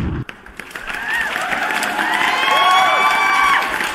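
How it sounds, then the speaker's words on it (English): A sudden crowd burst of applause mixed with cheering and whoops, rising after a brief sharp onset and staying loud and lively through the end. "let me give you that round of applause too"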